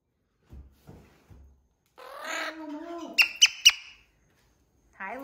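A rescued pet parrot chatters and then lets out three sharp, loud squawks in quick succession, close by, with soft taps beforehand and another vocal burst at the end.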